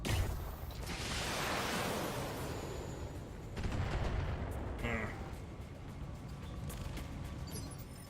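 Mech weapons fire in the BattleTech video game, an LRM-5 missile launcher and AC-5 autocannon, giving a loud rumbling barrage of booms and blasts that sustains for several seconds with a fresh burst midway, mixed with game noise.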